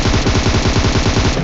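Rapid automatic gunfire in the mobile battle royale game PUBG Mobile, a loud, sustained burst of evenly spaced shots rattling continuously with no pauses.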